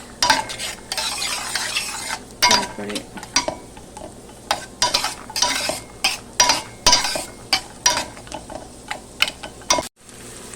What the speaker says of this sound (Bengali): একটু ভেজে নিই বাদামটা বাদামটা একটু ভাজা ভাজা হলে